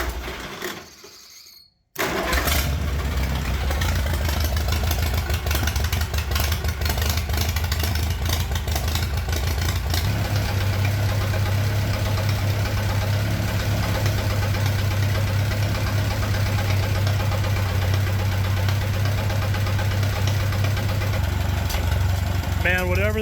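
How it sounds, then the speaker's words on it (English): A tractor engine with a newly fitted exhaust starts and runs steadily at a loud, close idle with a knocking, chugging pulse, continuing alone without talk. "I kind of want to hear what the new exhaust sounds like. So ignition on, and I don't know, a little bit of throttle maybe."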